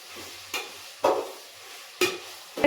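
Tomatoes frying in a pan give a soft sizzle, broken by a few sharp scraping stirs of a spatula against the pan, close and moderately loud.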